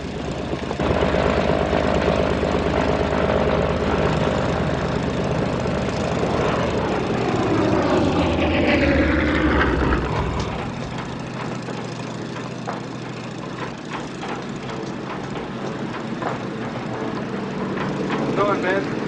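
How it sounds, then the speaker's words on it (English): Fighter aircraft launch from a World War II aircraft carrier deck with a loud, droning propeller engine roar that swells and then drops away partway through, leaving a lower rumble as voices talk. "Stand by to launch fighters."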